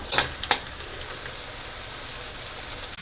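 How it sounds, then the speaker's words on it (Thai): Garlic fries in oil over low heat with a steady, close sizzle, broken by a couple of sharper crackles and pops near the start. "การทอดกระเทียมอย่าใช้ไฟกลางค่อยมาทางอ่อนนะคะ"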